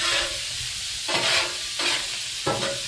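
Sausage and other ingredients for a dirty Cajun stir fry sizzle steadily on a Blackstone griddle, with several bursts of scraping and stirring from a spatula breaking up the frying.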